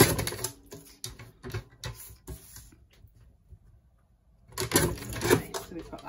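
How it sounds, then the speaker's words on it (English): A paper trimmer cuts card down to size for a craft project, giving a series of quick clicking and sliding strokes, then a pause before a louder burst of cutting, with some talk around it. "I'll just bring in my trimmer a minute and I'll trim that down to size"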